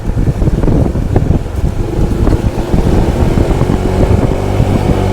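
A Honda PCX 160 scooter engine revs up and pulls hard, a steady loud drone with a rising tone, buffeted by wind noise throughout.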